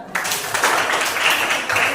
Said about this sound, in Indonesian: tepuk tangan untuk Enam